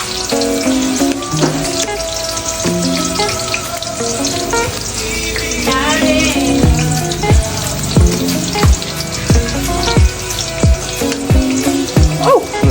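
Onion and chili sauté in a pan, a loud, steady sizzle broken by clattering stirring knocks and scrapes, with a melodic background running throughout.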